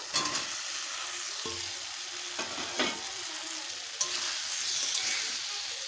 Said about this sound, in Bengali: পাঁচ সাত মিনিট ধরে ভালোভাবে কষে নেব